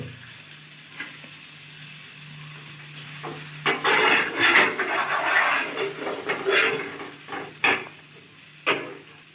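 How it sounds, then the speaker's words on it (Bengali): Chosi, small flour dumplings, fry in butter in a pan on a gas stove. The clip opens quiet, then a sizzle and frying noise rises and continues with intermittent louder bursts, close by and with no talk. "আমি এটা ভেজে নেব বাটারে। আচ্ছা, এই যে চষিটা যেটা বানানো হয়েছে এটা বাটারে ভেজে নেওয়া হচ্ছে।"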